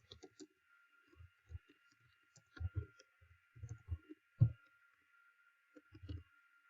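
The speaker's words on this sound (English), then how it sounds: "And the dish title here is going to be shrimp and roasted corn chowder. So we're going to type that." Keys clicked on a computer keyboard while a dish title is entered, coming in short irregular bursts of close taps with pauses between, over a steady background hum.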